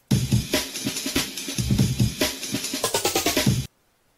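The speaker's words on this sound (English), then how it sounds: "it's our old drum loop that we created earlier." Old drum loop module played back in Protracker, a steady run of punchy kicks and snares with crisp hi-hats, ending in a quick stuttering roll before cutting to silence.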